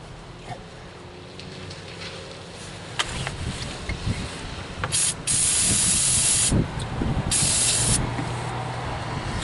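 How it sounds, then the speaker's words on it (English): An aerosol can of degreaser sprays into a Chevy Cavalier engine area in several bursts, sharp hissing blasts up close, the longest lasting a couple of seconds, with quiet gaps between. "So I'm just going to spray some more degreaser in there."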